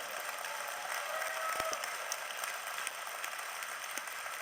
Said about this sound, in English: Hey, people, give him a applause.